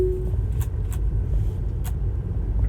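A Tesla car drives on Autopilot, heard as a steady low cabin rumble and road hum, with a few faint clicks and no talking.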